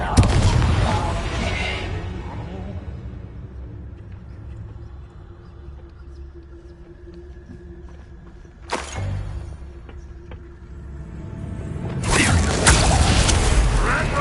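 Bombarda explosion spell cast in Hogwarts Legacy: a loud blast at the start that fades into a low rumble, then a sharp crack midway and a second heavy roaring burst near the end, with no talk over it.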